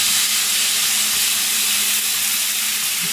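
Garlic stir-fries in a hot pan for a beef and vegetable stir-fry, giving a loud, unbroken sizzling hiss that holds steady throughout.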